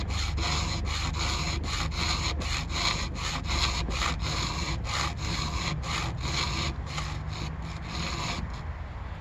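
A file rasping across chainsaw teeth during rip sharpening, a close, loud series of rhythmic back-and-forth strokes, roughly two per second, continuing evenly with no talk.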